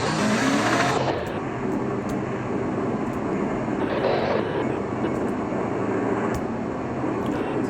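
A car in a toy warriors video game drives with a continuous engine drone and road rumble, its pitch shifting now and then as the vehicle struggles along.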